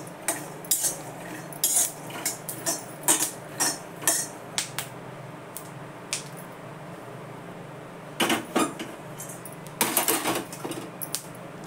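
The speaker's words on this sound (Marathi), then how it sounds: "मिरच्या भाजून घेते त्यातच." Green chillies roasting with peanuts in a pan, heard as a spatula scraping and clinking against the metal in bursts, with quiet pauses between strokes and a faint background hum.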